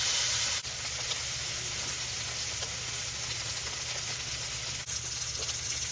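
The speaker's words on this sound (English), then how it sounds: "we're gonna sear the steaks on each side for about 2 minutes" Filet mignon steaks sear in a hot pan with a loud, steady, close sizzle that runs unbroken throughout, with no voice over it.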